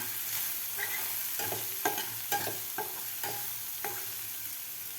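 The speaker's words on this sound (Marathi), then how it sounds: "व्यवस्थित परतून घ्यायचा आपल्याला हे सगळा मसाला" Spices sizzle softly in a pan as a spoon scrapes and clicks through several stirring strokes, close up with no talking.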